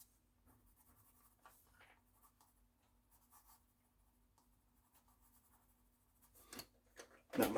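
Colored pencil shading on paper, the lead rubbed back and forth in faint, steady scratchy strokes close to the microphone, swelling into a louder burst of scraping at the very end.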